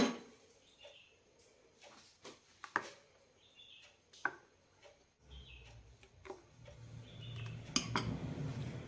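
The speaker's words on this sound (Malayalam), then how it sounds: "ഇനി നന്നായി മിക്സ് ചെയ്ത് കൊടുക്കാം." Semolina appam batter being mixed with a spoon in a bowl after a pinch of baking soda goes in, giving scattered soft clinks and scrapes, followed by a steadier rustling stir toward the end.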